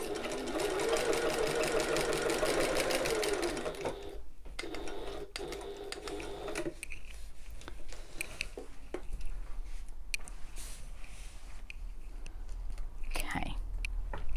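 A sewing machine runs in a long continuous burst basting along the top seam allowance of a shoulder bag, then stops, followed by quieter handling noises and fabric rustles.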